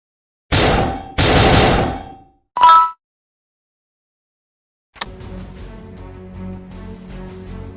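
Gunfire from Counter-Strike: a loud burst of automatic fire, a second longer burst, then a short clanging shot, silence, and then a metallic ring fading into a low in-game background.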